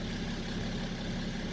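A 2004 BMW 535d engine idles at a steady, even drone with the gearbox oil warming, fairly faint and continuous with no voices.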